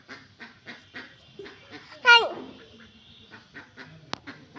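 Loud, harsh quacking bursts from ducks close by, with a sharp click near the end.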